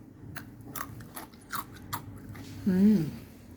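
Close, crisp crunching bites repeat in a steady rhythm, then a short voice comes in near the end.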